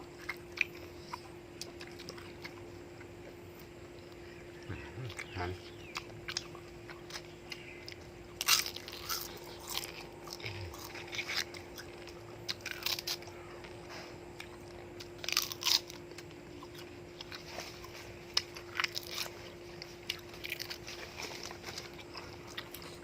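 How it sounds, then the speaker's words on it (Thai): Someone chews crispy fried pork in repeated crunchy bites, close and clear, with irregular crackling crunches over a quiet background and a steady faint hum. "หมูกรอบนี่กรอบกรอบ อันนี้เคี้ยวนานน่ะ"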